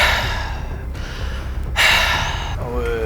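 A voice imitates very heavy breathing on a phone call with two loud, close, airy gasping breaths separated by a short pause, followed by a softer exhale.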